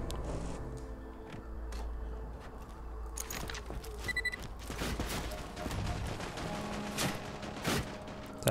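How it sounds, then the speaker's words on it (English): Bursts of gunfire from bandits in the video game Borderlands 2, sharp rapid shots and clatter, some close and loud, others more distant, spread across the clip without talk. "Who's shooting?"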